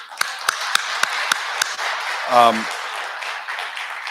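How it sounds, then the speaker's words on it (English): An audience applauds speakers after a panel discussion as a steady wash of clapping, with several sharp nearby claps standing out and a brief voice breaking in midway. "Let's give our speakers a round of applause."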